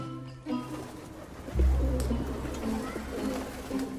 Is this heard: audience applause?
no